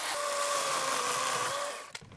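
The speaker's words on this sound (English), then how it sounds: "he obviously knows how to use a chainsaw" A chainsaw cuts a felled tree into small firewood in a forest, its engine whining loud and steady for nearly two seconds before cutting off abruptly, leaving a brief clatter.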